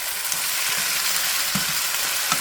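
Hamburger meat, half a Vidalia onion and drained pinto beans fry in a hot pan with a steady, loud sizzle and faint stirring scrapes, no voices.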